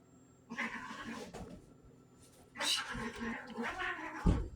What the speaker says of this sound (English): Don't mind my cats.